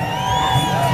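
A crowd cheers and whoops at a burnout show featuring Subarus and Nissan 240s, a dense, continuous roar of shouting voices with a low rumble beneath, steady and loud throughout the short moment.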